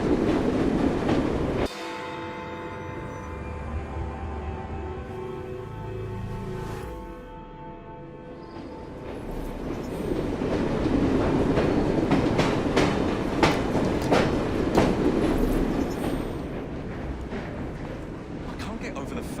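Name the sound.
train rolling along the rails in Assassin's Creed Syndicate, a video game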